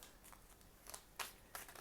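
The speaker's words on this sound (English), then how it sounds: "I do not cut my angels. I just shuffle." Angel oracle cards are shuffled by hand in a few soft, brief riffling bursts, close and quiet, with short pauses between them.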